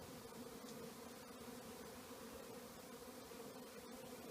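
Honey bees buzz steadily around a frame lifted out of a nuc box, a continuous close hum of many wings with no voices.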